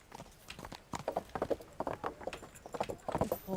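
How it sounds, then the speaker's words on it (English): Horse hooves clip-clop in the video game Kingdom Come: Deliverance, a steady walking rhythm of close, crisp hoof strikes on hard ground that continues throughout. "Henry jumps on the horse like some kind of fucking badass."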